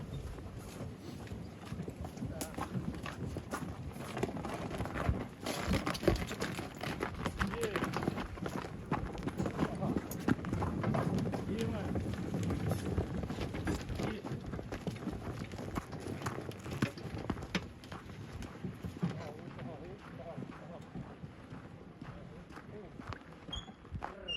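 Hooves of a draft horse clip-clop steadily on the ground under wind noise, with voices talking faintly throughout.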